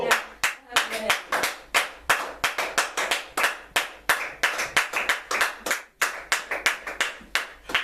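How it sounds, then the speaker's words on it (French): A church congregation claps in a fast, steady rhythm of sharp hand claps, loud and close, continuing through the whole stretch with voices faintly underneath. "je croyais que vous allez acclamer l'Éternel Dieu"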